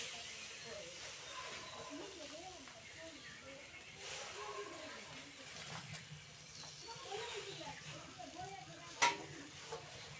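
Taro leaves (kochu shak) dropped into a frying pan of fried bottle gourd leaves give a steady, soft hiss and sizzle in a home kitchen, running beneath voices talking nearby.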